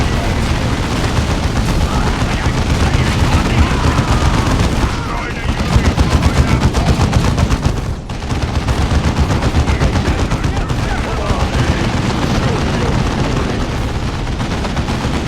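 Sustained gunfire from a tactical squad in the Dawn of War II strategy game, dense overlapping rapid shots and bursts running almost continuously, loud and close, with a brief dip around the middle and faint battle voices mixed in.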